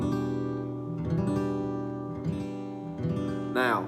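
Acoustic guitar chords strummed with the top string left open, several ringing strums with sustained harmonics, fairly quiet and close, ending with a brief voice.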